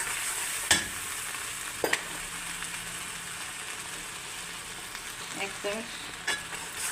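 Ginger garlic paste and spices such as dried chili and turmeric fry in oil with a steady, close sizzle, with occasional clinks and scrapes of a spoon, and a brief spoken phrase over it.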